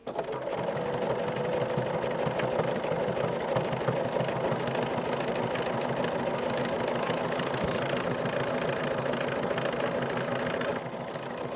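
A sewing machine stitches decorative patterns with a circular attachment on a scrappy fabric coffee mat, giving a loud continuous mechanical whir with a rapid needle rhythm that keeps an even pace and stops just before the end.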